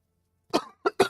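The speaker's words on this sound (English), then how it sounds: "That's brutal coughing, man." Harsh coughing comes in three quick, forceful bursts close to the microphone after a short silence, the first longer and rougher, the last two sharp and clipped.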